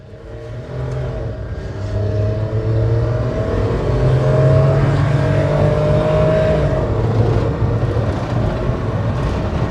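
Nissan Clipper NT100 kei truck (a rebadged Mitsubishi Minicab) driving up a hill, a loud sustained engine drone with rising revs and gearbox whine heard from inside the cab, swelling midway and holding steady, no talking.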